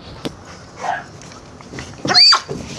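Dog on a fishing outing giving a few short barks and a high whimpering yelp, scattered and brief over a quiet outdoor background.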